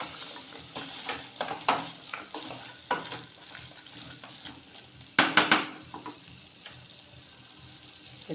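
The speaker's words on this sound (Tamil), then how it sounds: "போட்டு நல்லா அப்படி கலந்து விட்டுறணும்." Sprouted chickpeas being stirred in a pot for chana masala, with soft scraping and shuffling strokes that turn into a louder burst of clattering around the middle, close and without talk.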